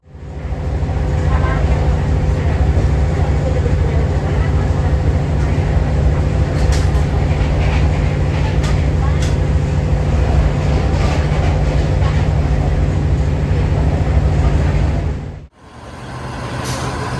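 A diesel multiple unit commuter train on the Sidoarjo–Bojonegoro line rumbles loudly and steadily up close, its engine droning without pause before the noise abruptly drops away near the end.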